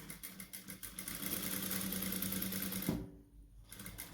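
Sewing machine stitching a nightie neckline, running as a steady fast whirring hum for about three seconds, then briefly stopping before starting up again, close and moderately loud.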